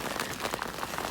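Rain mixed with hail pelting down outdoors in the New Forest near New Milton, a dense, steady close-up patter of drops with no pauses.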